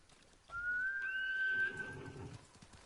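A single horse whinny in the video game Ghost of Tsushima rises and holds for about a second and a half, loud and close, with a fading tail and faint background noise.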